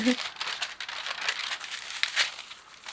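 Parchment paper being handled, close crinkling and rustling throughout, with a voice briefly audible at the start.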